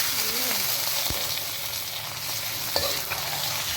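Vinegar-soaked squid frying in a hot pan for adobong pusit, a loud continuous hiss and sizzle with a couple of brief knocks, close and steady throughout.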